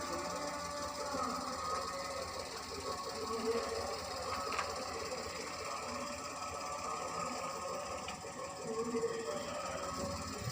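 A car engine hums steadily as a learner driver eases away on the clutch in narrow lanes, a low, continuous drone with slight roughness and no clear revving.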